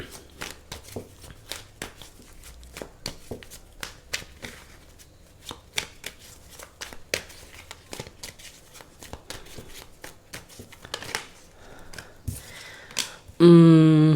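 Tarot cards are shuffled and handled up close, a long run of quick crisp flicks and soft slaps in irregular rhythm, with a brief burst of other sound at the very end.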